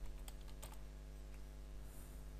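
Soft keystrokes tap out a search on a computer keyboard, a quick irregular run of clicks that is faint and close, over a low steady hum, with no talk.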